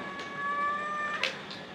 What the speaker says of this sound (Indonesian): kucingku tuh ngeong-ngeong terus loh, kayak minta buat pintunya dibukain